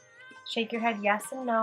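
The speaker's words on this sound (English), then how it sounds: "Oh, that's my cat." A pet cat meows repeatedly and close by, several drawn-out tonal cries of under two seconds, over a voice speaking during a power vinyasa yoga class.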